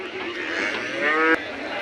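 A dairy buffalo at a crowded livestock market gives a loud, drawn-out moo lasting over a second, with steady crowd murmur beneath it.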